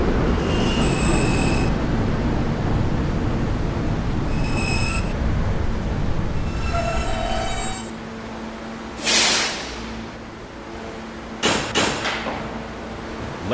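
A 2008 Kawasaki R160B subway train on the E line pulls into 57th Street with a loud continuous roar of wheels and motors. The roar eases as the train slows, followed by a few sharp hisses and door-like clunks.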